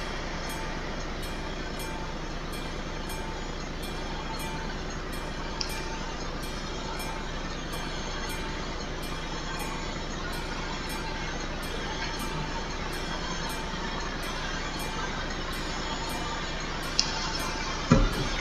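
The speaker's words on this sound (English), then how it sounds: "let's see what sort of train is going to go past us." A freight train passes in the truck-driving game Euro Truck Simulator 2, making a steady, continuous rolling rumble and rattle that stays even throughout, with a faint regular ticking above it and a couple of small knocks near the end.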